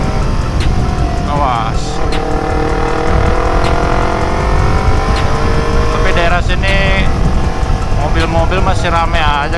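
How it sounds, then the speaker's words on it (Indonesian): Busy street traffic in Jakarta's Kota Tua area, cars and motorbikes passing close by in a constant loud engine rumble with rising and falling revs and occasional horns, while people talk over it. "Mobil masih rame aja guys tuh."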